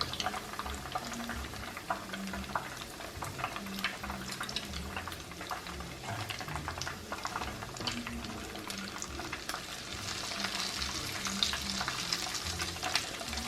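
A shrimp patty fries in grease in a pan, with a continuous crackling sizzle and bubbling and occasional scrapes and splashes as grease is spooned over it, close and moderately quiet.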